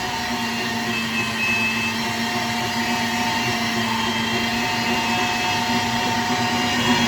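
An electric meat grinder minces meat and onion: a loud, steady motor whine with a continuous grinding hum throughout, close and uninterrupted, no talking.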